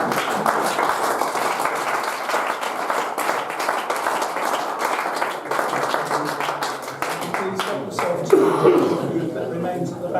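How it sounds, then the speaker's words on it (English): An audience at a business chamber legal briefing on Thai wills and property claps warmly for about ten seconds, a dense, steady patter of hands with a few chuckles. "Can I ask for a nice warm round of applause for Gav?"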